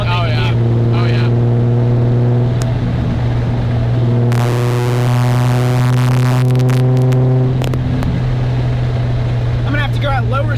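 A Nissan 350Z drift car's six-cylinder engine drones steadily while driving, loud and close from inside the car, its pitch shifting and briefly swelling as it revs midway.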